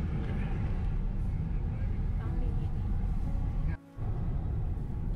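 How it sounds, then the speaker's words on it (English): A car travels along a highway near Ku-ring-gai Chase National Park outside Sydney, its steady low road rumble and broadband tyre noise filling the cabin without a break apart from a brief dip near the end. "Traveling in a car, sometimes on a highway."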